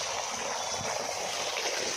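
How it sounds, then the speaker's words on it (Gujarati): Irrigation water runs across a farm field where watermelons grow, making a steady, close rushing flow with no pauses, heard alone. "આ બાજુ પાણી ચાલુ છે"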